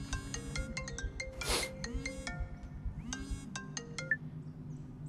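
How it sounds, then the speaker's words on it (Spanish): A telephone rings with a melodic electronic ringtone, repeated tonal chimes in quick bursts, fairly close and clear over a soft background. "Atende el teléfono."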